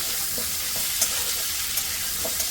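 Okra fries in a pan, giving a loud, even sizzling hiss with a few faint stirring taps, heard close up and without any voices.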